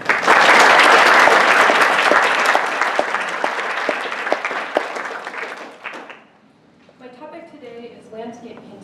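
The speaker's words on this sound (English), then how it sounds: "Please join me in giving them a round of applause." Applause from a symposium audience at a lecture on Venetian painting fills the room loudly for about six seconds, then fades out as a speaker begins talking.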